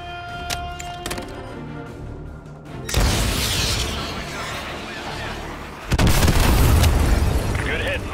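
Missile strike explosions in Call of Duty: Modern Warfare 2 Remastered, two heavy booming blasts a few seconds apart over a rumbling battlefield bed, loud and close.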